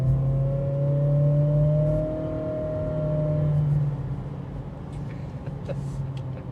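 A 2026 Acura ADX SUV in sport mode pulls away with a steady engine hum that rises in pitch over a couple of seconds, then eases and settles into a softer cabin drone.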